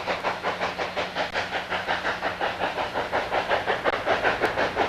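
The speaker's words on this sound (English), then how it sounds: "The steam locomotive up ahead" Durango & Silverton narrow gauge steam locomotive hissing loudly and steadily, with a rhythmic chuffing pulse about three beats per second running through the whole stretch.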